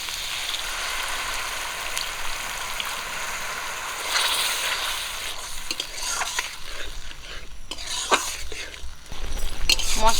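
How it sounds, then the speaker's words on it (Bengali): Ground masala frying in oil for katla fish kalia gives a continuous sizzle, then a splash of water goes in and brisk stirring scrapes and hisses build louder toward the end. "মশলাটা ভেজে নিয়েছি মশলার থেকে দেখুন তেল বেরোচ্ছে এই সময় আমি কষানোর জন্য একটু জল দিয়ে দেবো"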